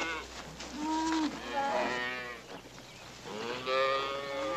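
Several head of cattle in a herd low and moo in long, drawn-out calls, one after another across the stretch, fairly close and clear with no talk over them.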